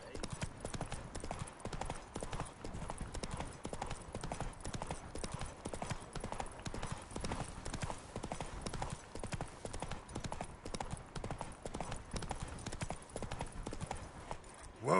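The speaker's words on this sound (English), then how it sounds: "Whoa there, Roach." Horse hooves clip-clop in The Witcher 3 video game, a brisk, even trotting rhythm that runs close and continuous throughout, with a voice speaking briefly over it.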